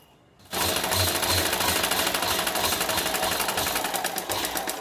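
Domestic sewing machine stitching cloth for a small homemade purse, starting after a brief pause and then running steadily and loud with a fast, even mechanical rattle.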